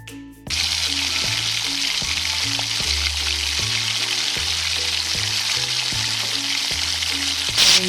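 Mango pieces hit hot oil and spices in a pan for sweet mango pickle, bursting into a loud, continuous sizzle that keeps frying steadily with low music underneath and a brief clatter at the end.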